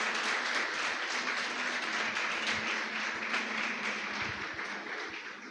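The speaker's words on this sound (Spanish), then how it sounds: "dale un fuerte aplauso al Señor" Spanish-speaking church congregation giving a strong round of applause to the Lord, a steady, moderately distant roar of many clapping hands that fades slightly at the end.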